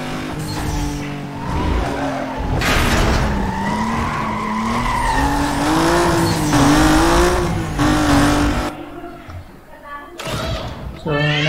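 Toyota Supra racing in the Need for Speed Most Wanted video game, a loud engine revving and swooping through gear changes with screeching tire skids and a thump near the end.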